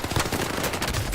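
Dense, continuous automatic gunfire in a shooter video game's Gulag round, loud bursts overlapping rapidly throughout with no pauses.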